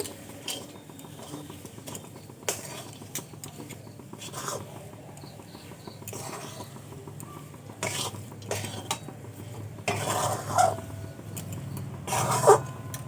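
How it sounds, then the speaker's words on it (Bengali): A spoon stirring cauliflower chop filling with nuts in a pan, giving soft repeated scrapes and clinks of metal on the pan in irregular bursts, fairly quiet with no talking. "আবার আমি খুব ভালো করে মিশিয়ে নেব"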